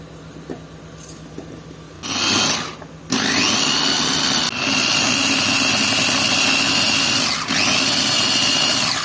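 A kitchen mixer grinder runs loud and steady, puréeing onion for a stuffed tinda dish after a brief start-up burst, with a short stop and restart midway and no talking.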